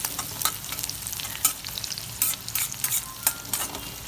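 Garlic and green chillies frying in a pan for a dried bombil and fenugreek dish, a steady sizzle broken by repeated scraping strokes of a spoon, close up and without voices.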